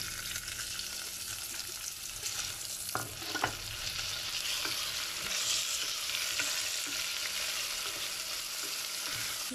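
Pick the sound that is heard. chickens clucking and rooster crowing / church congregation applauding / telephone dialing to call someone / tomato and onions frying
tomato and onions frying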